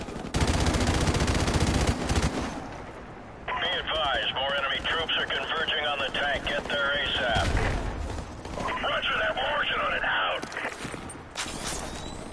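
Machine gun fire in Call of Duty Modern Warfare Remastered keeps rattling in rapid loud bursts, while voices shout over the fire.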